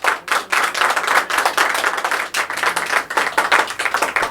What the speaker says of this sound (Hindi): चलिए एक बार अपने लिए जोरदार ताली बजा दीजिए